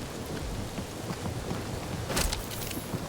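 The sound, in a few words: rain in Marvel's Guardians of the Galaxy video game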